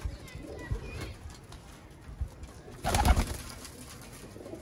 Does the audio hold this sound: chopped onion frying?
no